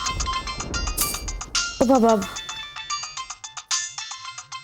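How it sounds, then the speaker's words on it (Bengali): A mobile phone ringtone in an indoor domestic scene, a bright repeating electronic melody that keeps ringing loudly throughout, while someone speaks briefly over it. "কি এখন কি আবার ফোন?"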